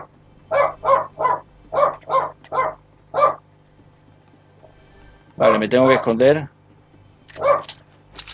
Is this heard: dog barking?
yes